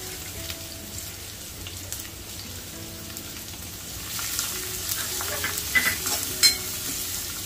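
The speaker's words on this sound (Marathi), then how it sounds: "कांदा गुलाबी रंगावर परतून घ्यायचा आहे, जास्त करपवायचा नाही।" Chopped onions frying in a pan with curry leaves for egg bhurji, a steady moderate sizzle with occasional stirring scrapes, growing a little louder and busier toward the end, no voices.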